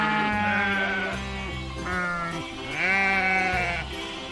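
A female goat in the video game Jurassic World Evolution 2 bleats in several loud, wavering calls close up, one after another with short gaps, alone without talk.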